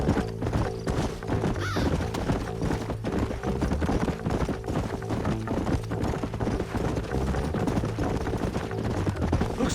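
Horses gallop in Red Dead Redemption, with a steady, fast clip-clop of hooves throughout, a neigh rising briefly early on, and a busy background of rumbling game noise.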